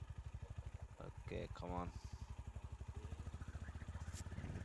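Honda H'ness CB350 motorcycle on a test ride, a close, steady low thumping single-cylinder engine beat that keeps throbbing evenly throughout, with someone speaking briefly over it.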